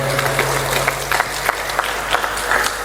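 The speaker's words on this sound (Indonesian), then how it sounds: "Tepuk tangannya itu" An audience at a LESBUMI PCNU Kota Pekalongan cultural gathering for Hari Santri 2025 applauds a speaker after a talk, with scattered, uneven clapping over a low background hum.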